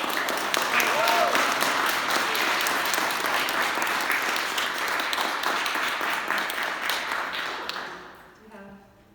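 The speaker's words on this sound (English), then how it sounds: "Just another round of applause for all the readers" An audience at an open mic poetry reading in a gallery claps steadily and fairly loudly for several seconds, the applause thinning out and fading near the end as a voice begins to speak.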